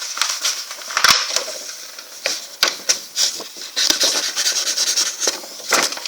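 The felt-tip end of a marker scrapes and rubs across a sheet of paper in short, uneven strokes, a close dry scratchy sound with brief pauses and no speech.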